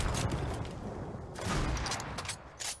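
Rapid bursts of gunfire from a shooter video game, a dense, loud volley with several sharp cracks, the last near the end, set over steady in-game background noise.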